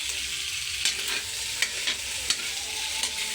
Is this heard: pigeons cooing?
no